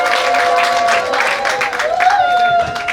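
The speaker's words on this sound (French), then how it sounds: "Applaudissez très fort pour monsieur." Guests at a civil wedding ceremony clap for the groom, a fairly loud patter of applause mixed with cheering and ululating voices rising over it.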